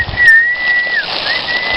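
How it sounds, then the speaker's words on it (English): People whistling in a rice field during hand harvesting to call the wind: a thin, sustained high whistle that wavers and breaks off, then returns faintly, over steady breezy outdoor background noise. "They're whistling for the wind."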